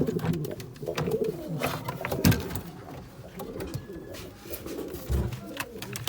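Pigeons coo in low, soft, rolling calls, with a stronger burst near the middle and another toward the end over a quiet room background.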